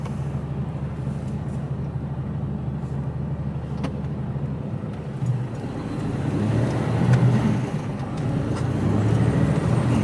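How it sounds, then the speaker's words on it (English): Cars stream past on a road, seemingly heard from inside a waiting truck cab, a steady low rumble of traffic that swells louder in the second half as vehicles go by close. "Wait for one car, now you got to wait for bloody hundreds of them."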